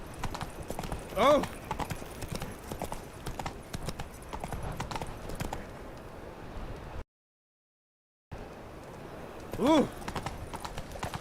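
Hooves of Roach, Geralt's horse in The Witcher 3, clip-clopping in a steady rhythm under game dialogue and ambient noise, with a brief drop to silence midway and a short vocal exclamation near the start and end.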